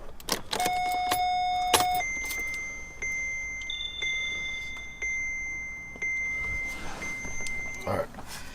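Ignition switched on in a 2015-2021 Kia Sedona: a string of electronic chimes and steady warning tones sound close by, with a few clicks and jangling keys.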